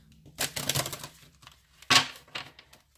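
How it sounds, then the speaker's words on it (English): Oversized tarot cards are shuffled by hand in a quiet room, giving dry papery riffles and slaps in two short bursts with soft handling noise between. "These cards are so big. I'm like, who's supposed to shuffle these, Shaq?"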